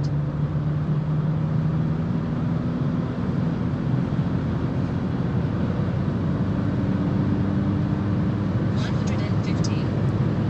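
BMW E87 123d diesel hatchback, 250 hp, accelerating in sixth gear on the Autobahn from around 100 km/h, a steady loud engine drone with heavy wind and road roar, rising slightly in pitch, without speech.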